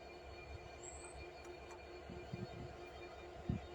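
A train passes through the station at Tonbridge as a steady distant rumble with faint wheel noise and a brief high squeal, quiet throughout.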